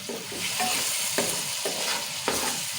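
Tomatoes and onions fry in a pan with a steady loud sizzle, and a spoon scrapes through them every so often as they are stirred.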